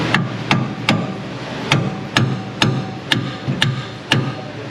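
An Icon Persuader hammer striking in a workshop on a 1960 Plymouth Fury, nine sharp close metallic blows at a steady, roughly half-second rhythm.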